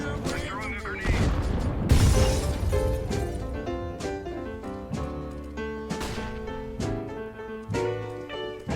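A grenade goes off in Counter-Strike: Global Offensive, a short crashing burst early on, heard against loud music that carries on through the rest of the clip.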